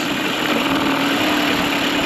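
A Mercury 9.9 outboard motor revs steadily with a buzzing drone, loud and close, held at slightly raised RPM for a couple of seconds.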